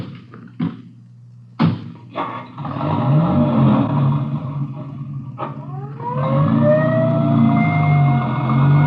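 Ambulance siren in an old radio crime drama, starting after a few sharp knocks and bangs, then a rising wail that swells louder toward the end over engine rumble.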